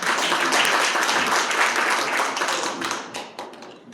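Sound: audience applause

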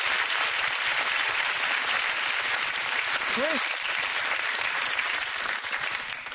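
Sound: audience applause for the Crisfords

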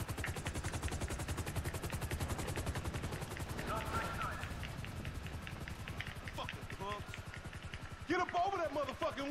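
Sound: helicopter being shot at in GTA 5 video game

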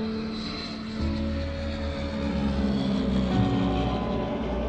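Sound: small plane taking off in Alaskan mountains

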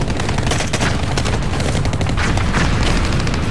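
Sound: enemy machine gun bunker opening fire

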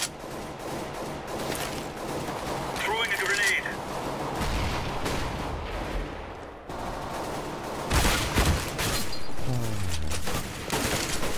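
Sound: flashbang and gunfire in video game CS:GO

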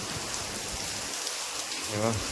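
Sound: heavy rain

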